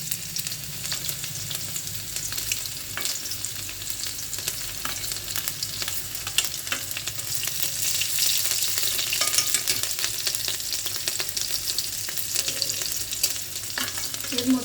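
Garlic fries in a pan with a constant bright crackle and hiss, close and fairly loud, swelling slightly midway with faint stirring noises underneath.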